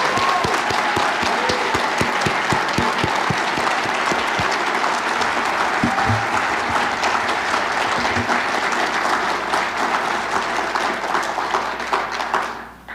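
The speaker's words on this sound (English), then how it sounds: "I ask you to give our recipients one final round of applause." Sustained, dense audience applause for award recipients at a police department awards ceremony, steady and loud for the full duration before tapering off at the end.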